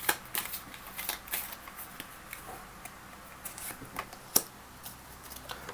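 Oracle cards are handled and shuffled close up in a quiet room, giving soft, irregular riffling clicks and flicks with brief pauses.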